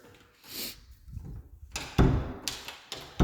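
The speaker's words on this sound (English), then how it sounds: "Let's try this door." An interior house door in a home under final renovation is swung open and pushed closed a few times, thudding against the frame without latching, with close, sharp knocks and rattles in a quiet room.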